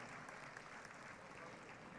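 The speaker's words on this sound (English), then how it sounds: "Let us give a big round of applause for the newly launched center." Audience applause fills the hall at an ASEAN summit event in Jakarta, a steady broadband clatter of many hands held evenly for two seconds, fairly faint and distant.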